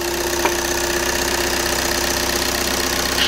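A 2012 VW Jetta 6 with a 2.0 TDI CJA diesel engine idles with the hood open, a steady, even, close-up clatter and hum held throughout.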